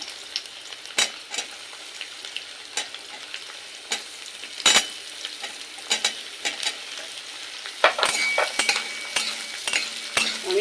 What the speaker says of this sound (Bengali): এবার দিয়ে দেব কুচিয়ে রাখা পেঁয়াজ পেঁয়াজগুলো একটু হাত দিয়ে ছাড়িয়ে নিলে ভালো হয়